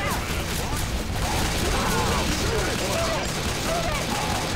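Gunfire crackles in Left 4 Dead 2 amid a zombie fight, a dense run of sharp shots and clattering impacts lasting several seconds over a noisy background, with chaotic game sounds mixed in.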